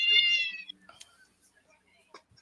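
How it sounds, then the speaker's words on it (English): A cat meows once with a drawn-out, wavering cry, followed by soft rustling and faint background sounds. "No, that was my cat."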